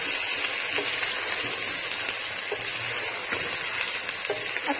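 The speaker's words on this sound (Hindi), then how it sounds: "अच्छे तरीके से इसको भूनते हैं।" Multani biryani mixture fries and is stirred in a pan, producing a continuous close sizzle with faint scraping taps from the spoon and no talking.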